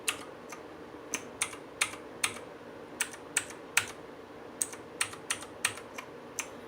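Keys on an ABKO Hacker K2000 mechanical keyboard are typed up close in an uneven stream of crisp clicks, some in quick bursts, with no voices.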